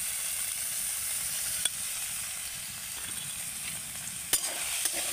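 Fried potol stirred in a pan with homemade chhana and crushed roasted peanuts, giving a steady low sizzle with soft scraping strokes and a few sharper clicks of the spoon against the pan, no talking.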